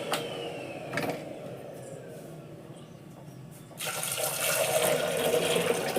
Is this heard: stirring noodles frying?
no